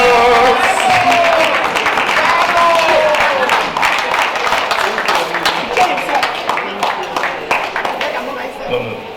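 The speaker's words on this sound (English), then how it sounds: "Please give a round of applause." Applause from an audience at a church gala award presentation, a steady dense patter of clapping throughout, fairly loud and sustained, with voices and crowd noise mixed in.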